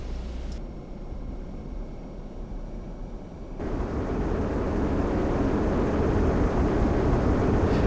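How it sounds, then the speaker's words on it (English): A jet engine in the LockOn Flaming Cliffs 2 flight game spools up to full afterburner for takeoff, a quieter steady whine jumping to a loud, broad roaring rush that holds to the end, with no speech. "Once you're ready, release the brakes and slowly advance the throttle to full afterburner."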